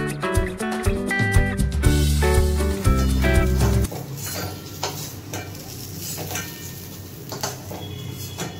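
Pointed gourd (potol) dropping into hot oil in a wok, with a loud clatter of the pieces going in, then a steady close frying crackle that carries on alone.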